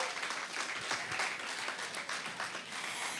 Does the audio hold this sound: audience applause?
yes